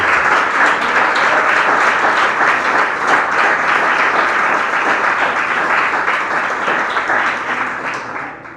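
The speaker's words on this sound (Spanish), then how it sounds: "Dale un aplauso al Rey." A congregation applauds during a church sermon: a dense, steady wash of many hands clapping together, loud and sustained, then gradually thinning toward the end.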